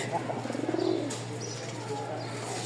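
A male pigeon coos in a deep, rolling run of calls at a pigeon market in Mirpur, Dhaka, close and fairly clear over a steady low background hum before fading.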